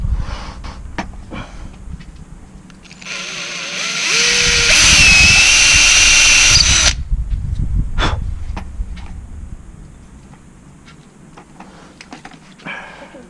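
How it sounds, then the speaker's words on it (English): A power drill drilling a small hole whines at high pitch for a few seconds, then cuts off, with scattered knocks and handling noise before and after. "Drill a small hole."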